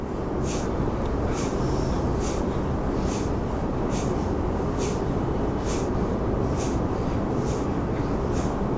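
Kapalbhati yoga forceful breathing: short, sharp exhalation bursts repeating at a quick, regular pace, about ten in a row, close and distinct over a steady low background noise.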